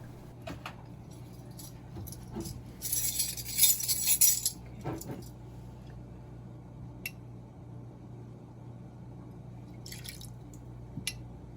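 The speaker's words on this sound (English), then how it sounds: "And add 3 tablespoons of sake." Three tablespoons of sake trickle into a rice cooker pot for matsutake mushroom rice, a short clinking splash and a few drips against metal, close and faint in a quiet kitchen.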